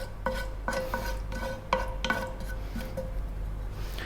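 A teaspoon of cumin seeds hitting hot sunflower oil, with a soft sizzle under a series of sharp clinks and taps of a spoon against the pan, spaced irregularly.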